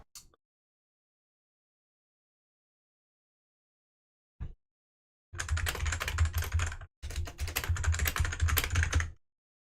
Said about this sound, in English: I do plan on changing my keyboard soon to non-mechanical, so you won't hear me just typing away like a madman